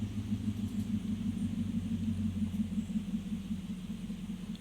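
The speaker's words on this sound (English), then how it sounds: "You hear the truck running, trying to roar back to life." A monster truck engine rumbles low and steady at a freestyle show in Nashville, Tennessee, a continuous throbbing idle heard from a distance with no talk over it.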